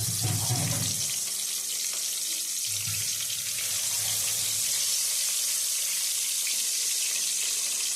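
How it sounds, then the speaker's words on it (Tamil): Chicken pieces fry in hot oil for a KFC-style recipe, a steady close hiss and sizzle throughout, with a short bubbling burst near the start and a second one a few seconds later. "இப்போ வச்சிருந்த சிக்கனை எண்ணெயில் போட்டுக்கலாம்."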